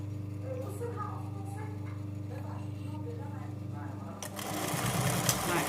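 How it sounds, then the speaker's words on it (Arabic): A sewing machine stitches a hijab with a steady, fast, close whirring hum, then gives way to louder rustling handling noise near the end. "دركا نبدا نخيط عادي جدا."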